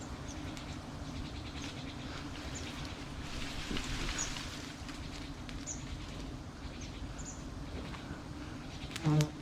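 Giant honey bees feeding on eucalyptus blossoms make a steady, close droning buzz that runs throughout, with a brief louder swell near the end.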